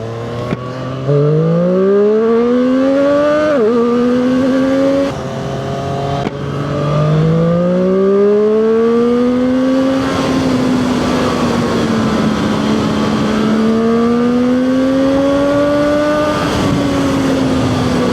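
A Zontes 703R motorcycle accelerates hard through the gears, its engine note climbing in rising sweeps with brief dips at each shift, loud and close for the whole stretch with no talk.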